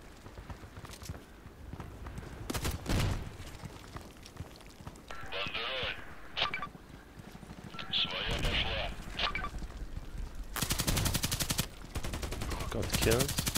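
Bursts of RPKT machine gun fire in the shooter game Contract Wars, sharp rapid volleys at close range between pauses, with a long sustained burst near the end and a voice talking in places.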